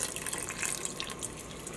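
Leftover liquid dye from several rinsed cups poured over yarn, a soft continuous trickle and splash of liquid running steadily with no voices.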